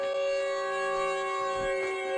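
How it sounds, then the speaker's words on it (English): A siren wails in a Siren Head horror video game, a sustained, harmonic civil-defense-style tone that swells slightly, loud and alone. "A siren sound."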